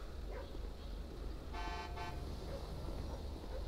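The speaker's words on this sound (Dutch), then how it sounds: "als je gaat toeteren naar mij, dan krijg je er een voor toeteren" A car horn in GTA 5 gives two short honks over a steady low traffic rumble on a city street, moderately close.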